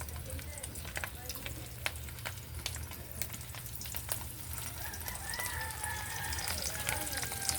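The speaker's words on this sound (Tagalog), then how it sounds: "Tsaka ito na po yung pagprituhan natin ng tuyo" Dried salted fish (tuyo) frying in hot oil in a home kitchen, a steady crackling sizzle with scattered pops running throughout, fairly close, with faint background voices and a rooster-like call in the distance.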